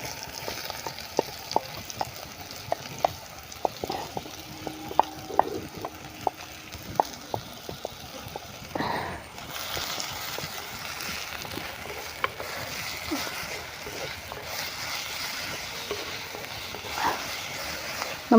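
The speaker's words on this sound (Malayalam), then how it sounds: "നമുക്ക് ഇഞ്ചി, പച്ചമുളക്, വെളുത്തുള്ളി, സവാള, കറിവേപ്പില അരിഞ്ഞത് നമുക്ക് ഇട്ട് കൊടുക്കാം." Chopped ginger, green chili, garlic, onion and curry leaves frying in hot coconut oil, a steady crackling sizzle with scattered clicks and spatula scrapes, growing louder and denser about halfway through as the pan hisses on.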